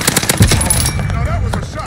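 Rapid automatic gunfire in Call of Duty Warzone on the Caldera map, a loud close burst of shots that fades into quieter game sounds, with no talk.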